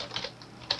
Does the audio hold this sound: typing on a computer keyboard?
yes